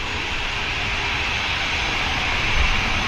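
Norwegian airliner rotating on takeoff at Manchester Airport, a loud continuous jet engine roar, broad and steady, heard from a distance with no talk.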